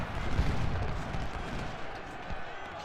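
In the Civil War game Ultimate General, infantry volley fire crackles as a rolling wash of distant musketry and low booms, with a sharper report near the start, moderately loud with a continuous battlefield rumble under it.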